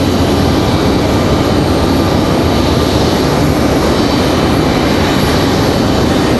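A JetBlue Airbus A220 jet at Raleigh-Durham airport gives off a continuous, even engine roar with a hissing upper edge, loud and unbroken for the whole stretch, with no voices.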